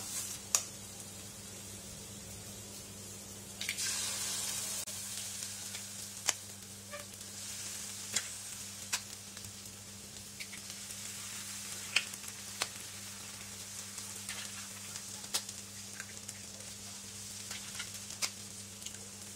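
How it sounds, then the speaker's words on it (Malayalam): Eggs hit a pan of spiced masala for egg bhurji, setting off a steady, close sizzle with a brief louder burst as they go in and small clicks and taps of stirring throughout. "നമുക്ക് ഇതിലേക്ക് എഗ്ഗ് ചേർത്ത് കൊടുക്കാം."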